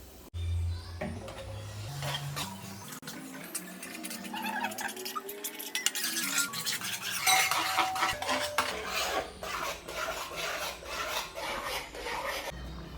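Spice masala being mixed with coconut oil in a pot, a continuous scraping and rubbing stir of utensil against the vessel, close and fairly loud, with no talk.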